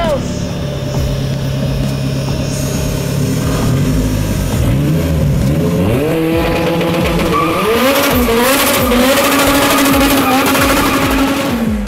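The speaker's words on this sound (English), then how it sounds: "Burnout." Turbocharged K20 engine in a 500+ hp car on pump gas doing a burnout: loud sustained revving that rises and falls, with tire squeal and rushing noise building, close and overpowering.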